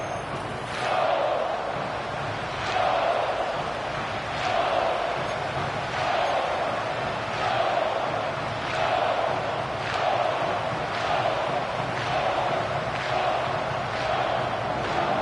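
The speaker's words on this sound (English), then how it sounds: "The crowd is alive and with good reason." A stadium crowd roars during an NFL playoff game in an EA Sports football video game, a continuous dense wall of cheering with regular rhythmic swells of chanting, loud and steady throughout.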